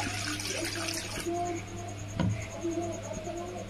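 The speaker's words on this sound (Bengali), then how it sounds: "এবার এখানে আমি জল দেবো অল্প" Water is poured into a pan of figs on a lit gas stove, a steady close-up trickle and splash running throughout the short moment.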